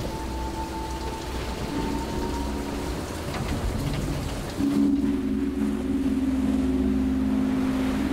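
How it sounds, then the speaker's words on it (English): Steady rain falls during a storm on Rurutu, a dense hiss that carries on without a break, mixed with a low engine hum and droning tones in the background. "4 days of rain, storms, cool temperatures, and wind prevent the men from going out to sea."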